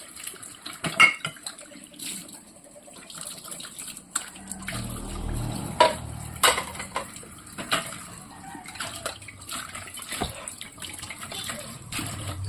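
A child washes dishes at a sink, with scattered clinks and knocks of plates and cutlery over a bursty rush of running tap water, fairly close and intermittent.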